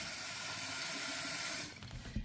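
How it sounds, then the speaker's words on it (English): Warm tap water runs steadily while a jar is washed out with soap and a sponge, a continuous hissing splash that thins out near the end, followed by a couple of brief clinks and knocks. "We're going to use some soap on a sponge, warm water,"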